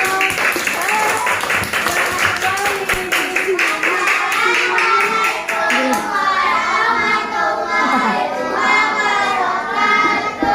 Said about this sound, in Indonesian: Tepuk tangan buat Venus.